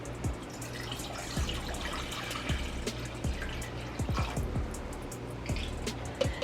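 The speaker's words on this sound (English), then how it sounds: "we're going to use 4 cups of filtered water." Filtered water pouring from a container into a cooking pot set on a stove flame, a steady close liquid splash with scattered drips and clinks throughout.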